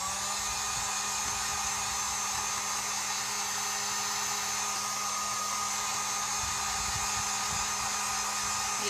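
A hair dryer blows continuously and loud at close range with a steady whooshing hum as it dries a pumpkin home decoration.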